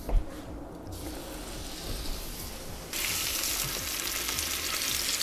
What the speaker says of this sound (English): Sear our roast.